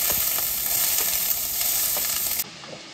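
Chillies and onions sizzle loudly in a hot pan, a steady dense frying hiss that cuts down abruptly near the end to a quieter simmer, with no voices.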